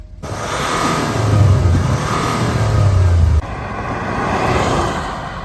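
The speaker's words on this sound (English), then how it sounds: "press the start button, and you'll hear that V6 diesel come to life" A used Range Rover's 250-horsepower V6 diesel engine starts up almost at once, then settles into a deep, loud rumble that swells with a couple of revs before easing back to a steady idle, heard close up with no talking.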